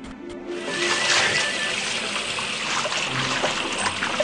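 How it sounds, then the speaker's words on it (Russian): Water runs steadily from a tap over a plate being wetted for washing in a children's cartoon kitchen, a continuous close trickle and splash that starts after a brief pause and holds for the rest of the clip. "Давай помоем тарелку, намочи ее водой."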